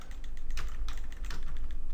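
Computer keyboard keys pressed for shortcuts during Photoshop digital drawing, a run of quick, close clicks and taps over a steady low hum, with no talking.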